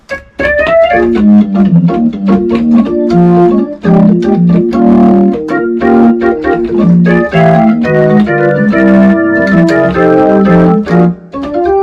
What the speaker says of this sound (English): So the percussive organ actually sounds like this.